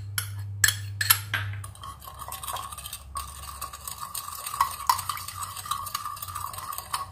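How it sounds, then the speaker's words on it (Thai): Sugar being stirred into a small amount of liquid for a Japanese roasted sesame dressing, heard as light, close scraping and clinking of a spoon against a bowl, irregular and fairly quiet, with a low hum early on and no talk. "คนให้น้ําตาลทรายละลายนะคะ"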